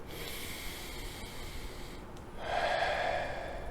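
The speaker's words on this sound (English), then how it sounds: "Just having to breathe on camera." A person breathing deeply on camera, close airy inhales and exhales with a rushing, hissing quality; the second breath is louder and fuller than the first.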